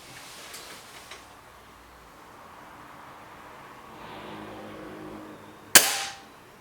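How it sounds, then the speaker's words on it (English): A Webley Xocet air rifle fires a single sharp, loud crack near the end, preceded by quiet outdoor background. "Big shot this for the Webley."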